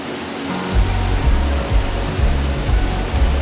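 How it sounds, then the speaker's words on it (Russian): Roar of the Iguazu waterfalls in Argentina, a steady dense rushing noise that swells in after a moment and stays loud and continuous with deep rumbling pulses, no voices. "комплексу водопадов Игуазу, что насчитывает около 300 водопадов"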